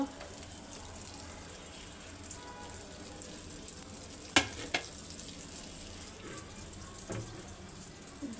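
Chicken buns frying in oil over low heat give off a steady, soft sizzle, broken by a few sharp spattering clicks near the middle and again toward the end.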